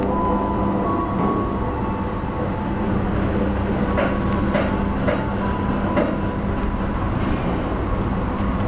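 Inside the Argo Lawu express night train from Jakarta to Solo running at full speed, a loud, constant rumbling roar carries faint rhythmic wheel clicks over rail joints.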